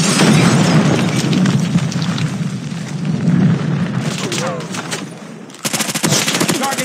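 A frag grenade goes off in Call of Duty Mobile amid loud game gunfire, with a heavy rumbling blast followed by rapid automatic shots and sharp crackles, all close and intense.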